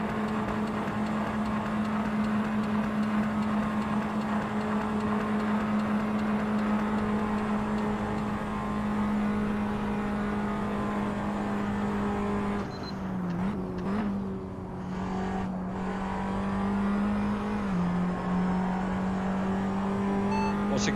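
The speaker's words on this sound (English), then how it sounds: "So I can hear the engine's topped out." A race car's engine holds a steady high-pitched drone at full speed, loud and close, with a brief dip and gear-like shift partway through before the tone resumes.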